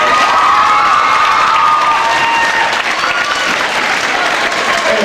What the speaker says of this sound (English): So let's give them a round of applause right now